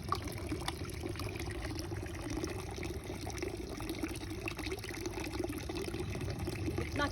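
Cold water pouring steadily from a free public drinking fountain in Switzerland, a continuous close splashing rush with no pauses throughout.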